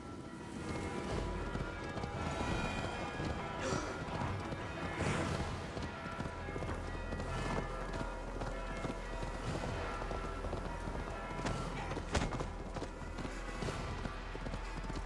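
Horse galloping in the video game Assassin's Creed Valhalla, a steady rapid clip-clop of hooves under a continuous rushing, rain-like ambience, close and even throughout.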